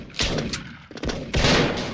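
Musket shots in the game Origin Musket, a few sharp, loud gunfire blasts in quick succession with short gaps, the last one longest and fullest.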